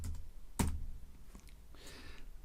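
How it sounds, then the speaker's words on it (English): Someone types briefly on a computer keyboard. A sharp keystroke is followed by a few soft, quiet taps and clicks, close up. "I'll just click and I'll type Zoom."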